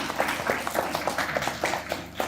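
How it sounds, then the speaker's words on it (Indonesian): Audience applause in a school museum-outreach gathering, a modest patter of hand claps at moderate distance, fairly soft and continuous. "Boleh tepuk tangannya."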